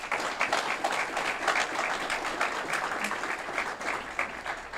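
An audience at the Bilter Road development project announcement claps for the developers, a sustained patter of many hands heard at a moderate distance and fairly quiet, steady throughout with no talking.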